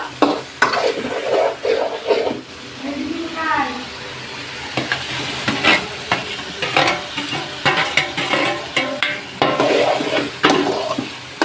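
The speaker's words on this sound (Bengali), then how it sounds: "নেড়ে চেড়ে দেবো, আলুগুলো দিয়ে একটু কষিয়ে নেব।" Fried potatoes being stirred and sautéed in a pan with a spatula for a Bengali banana-flower and prawn curry, giving a steady sizzle broken by repeated scraping strokes at close range, with some speech mixed in.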